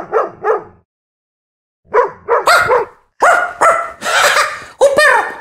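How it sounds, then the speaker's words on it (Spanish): A dog barks in short yipping bursts, first a quick pair, then after a pause a rapid run of sharper, louder barks close by. "¿escuchaste que es un perro?"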